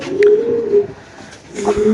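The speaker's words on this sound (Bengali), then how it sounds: "একদম সিলভার লাহোরি কবুতর" Silver Lahori pigeons coo in low, rolling murmurs, two drawn-out calls with a short lull between, close by and fairly loud.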